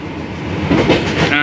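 A Rajdhani Express passenger train runs fast on the rails, giving a steady loud rumble and rattle of wheels and carriages heard from on board.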